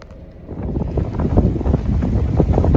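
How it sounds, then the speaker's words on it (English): Winter wind in southern Labrador gusting into the microphone, a rough rumbling roar that builds from quiet to loud and keeps buffeting close by. "The wind is now up."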